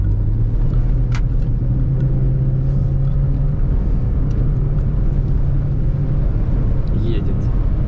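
A rally car runs along a stage at a 2023 rally sprint, a constant loud engine and road rumble heard from close by, with voices talking over it throughout.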